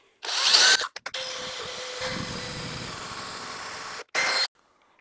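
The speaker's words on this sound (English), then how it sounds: "I just need to drill basically this" A power drill drives a bit into wood on a workbench build, a loud steady whir running for several seconds after a brief start-and-stop burst, then a short final pulse before cutting off.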